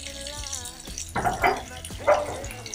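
Water runs from old Victorian bath taps into a tub, a hissing splash that swells in short bursts while a dog barks a few times in the background.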